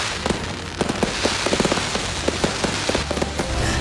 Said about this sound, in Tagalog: Sinundan ito ng engrandeng fireworks display.